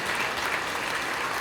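Audience applause at a Tamil stage speech and mimicry show, a dense, steady wash of clapping from a crowd filling the whole moment without any voice over it.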